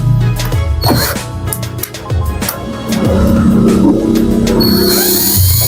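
A Sokin 21V cordless power drill whirs loudly and steadily with a droning motor pitch, interrupted by clattering knocks and shifts in speed.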